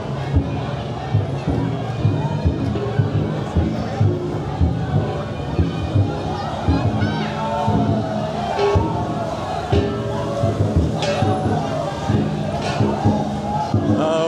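A dense crowd fills the street at the Foshan dragon boat festival, a steady loud babble of many voices with scattered shouts and bursts, a nearby voice talking through it.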